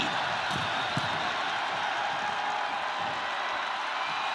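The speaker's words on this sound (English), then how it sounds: "Just listen to this crowd. Every one of them is on their feet" A dense, steady roar of an arena crowd cheering during a Royal Rumble match in the WWE 2K26 wrestling video game, continuous and loud with no individual voices standing out.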